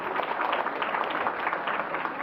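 Children at a school gathering clap together in welcome, a steady, dense wash of applause with no talking over it.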